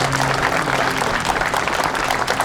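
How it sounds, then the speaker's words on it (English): Audience applause at an outdoor Veterans Day observance ceremony in Milton, Massachusetts, honoring veterans who raised their hands; steady, dense clapping from a crowd continues throughout, with a low steady hum underneath. "A big round of applause."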